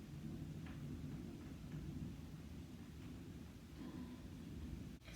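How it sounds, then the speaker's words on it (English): Rain falling outside all day produces a continuous, low, dense wash of noise, steady and muffled as if heard from indoors, with no voices over it. "It's been raining like all day."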